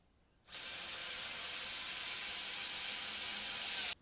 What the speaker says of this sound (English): drilled holes into the bulkhead plate that I can easily weld up later